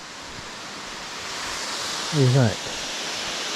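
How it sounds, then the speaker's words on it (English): Boardtree Falls runs strongly, giving a steady broad rush of falling water while a person speaks briefly over it. "That's Boardtree Falls. That's pretty. It's running pretty good."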